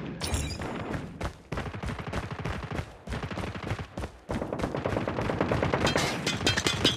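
Rapid gunfire in Call of Duty Mobile multiplayer, dense loud bursts of automatic shots with brief gaps, close and continuous with no talk.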